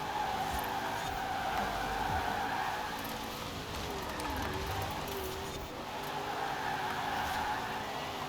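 Car tyres squeal steadily while skidding in the racing game Forza Horizon 4, a continuous loud screech over engine noise that holds for the whole stretch with a brief dip near the end.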